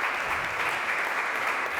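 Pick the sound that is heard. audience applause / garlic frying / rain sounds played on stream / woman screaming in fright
audience applause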